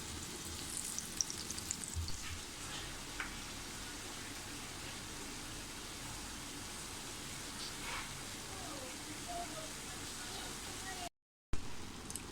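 Slices of raw banana fry over medium heat, a soft, steady crackling hiss that stays even and fairly faint, ending in a brief gap.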